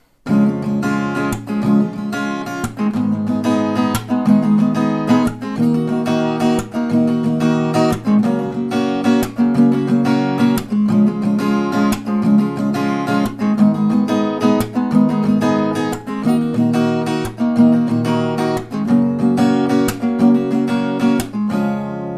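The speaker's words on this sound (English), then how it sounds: "You're gonna play 2 of these strumming rounds per chord" Steady rhythmic strumming on an acoustic guitar, chords ringing continuously at an even tempo, close and fairly loud with no voice.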